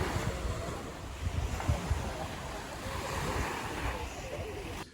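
Ocean waves wash steadily onto an island beach in Thailand, a continuous broad roar of surf mixed with gusty wind buffeting the microphone.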